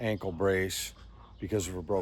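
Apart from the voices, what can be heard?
No everyday noises stand out.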